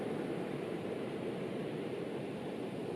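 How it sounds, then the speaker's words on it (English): Steady, soft wash of ocean waves rolling onto a sandy beach, a continuous broadband hiss with no distinct breaks, heard alone at low volume. "connect with the sound of the waves"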